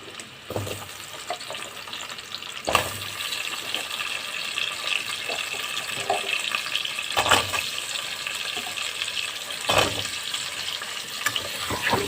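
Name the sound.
potatoes frying in a pan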